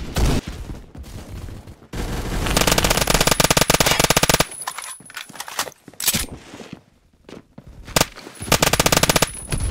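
Loud, close bursts of automatic fire from a Colt SMG 633 in the Phantom Forces shooter game, long sustained volleys broken by short gaps and a few sharper single shots.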